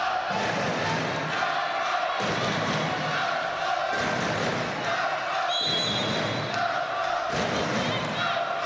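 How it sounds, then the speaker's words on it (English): A large indoor crowd at a volleyball match roars continuously, with swelling cheers and shouts echoing around a big sports hall and occasional thuds beneath. "The crowd are giving everything they've got. It's great to see and hear them."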